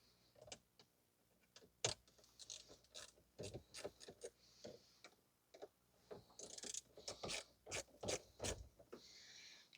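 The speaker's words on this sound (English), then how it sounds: "I'm just using a 1/4 inch ratchet and extension along with the socket." A 1/4 inch ratchet with an extension and socket turns out the 8mm screws holding a 12 volt power outlet in a 2015 Toyota Sienna. Quick clicking bursts come up close and fairly quiet, broken by short pauses.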